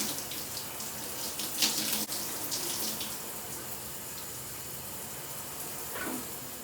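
Tap water runs in a steady broadband rush as hair color mask is rinsed out, with splashing flutters as the stream hits hair and basin; continuous and close, no talking.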